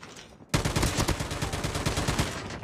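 Heavy gun in Call of Duty Mobile firing a long rapid burst that starts abruptly and continues as a dense, steady stream of loud shots.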